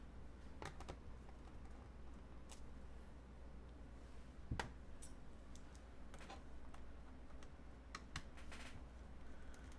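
Keys on a Dell laptop keyboard with a faulty keyboard are tapped in faint, scattered clicks over a quiet background hum, with one sharper knock midway through.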